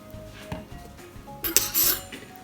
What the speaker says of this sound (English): And then we'll mix this together well.